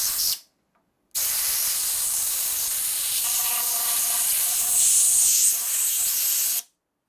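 Steady, loud hiss of air escaping from a leak, running for several seconds after a short silence, swelling slightly near the end before cutting off abruptly.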